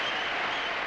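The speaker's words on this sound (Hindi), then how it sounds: "जोरदार तालियां।" Cartoon crowd applause greets a Shakespearean actor introduced on stage, a dense, steady roar of clapping held evenly at full strength through a brief moment.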